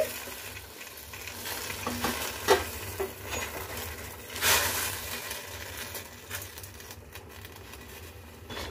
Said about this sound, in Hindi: अब हम इस बर्तन में सारे पालक को डाल देंगे और इसे ब्लांच कर लेंगे